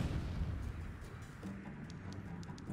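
Explosion spell cast in the fantasy strategy game Disciples: Liberation, a heavy rumbling boom with dense low-end roar that stays loud and sustained across the short clip, with no talk over it.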